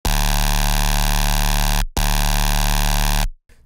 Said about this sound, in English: Today I've got a really nice sustained style bass for you guys.